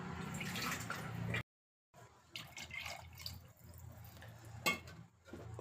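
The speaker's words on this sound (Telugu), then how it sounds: "నాకు కొంచెం వాటర్ పడుతుంది వేస్తాం" Water trickles and drips into a clay pot in short uneven spurts, fairly quiet, with a brief silent gap early on.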